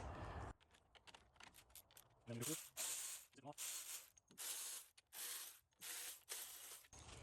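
A ratchet breaks loose 13mm bolts on an AR45 with bursts of rapid clicking pawl noise, close and fairly quiet, repeated in short strokes with brief pauses between them.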